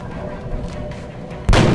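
Single loud gunshot from a weapon in the XCOM: Enemy Within video game, a sharp booming crack near the end after quiet game ambience.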